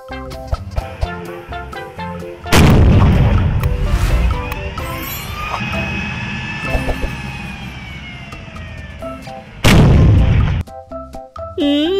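A toy steel tank giving out electronic sound effects: two loud booming blasts with a whooshing, sweeping tone between them, over a plinking toy melody and with a voice talking.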